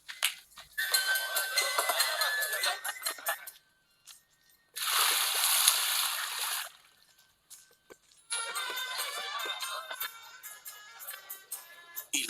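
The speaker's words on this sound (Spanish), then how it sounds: "Llenen de agua las tinajas." Water is poured and splashed into large stone jars of about 100 litres, coming in three long sloshing bursts separated by short pauses, loud and close.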